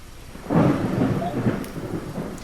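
Rain and thunder in a video game's dream level: a steady broadband wash of rain with low rumbling swelling in after a quiet start and holding to the end.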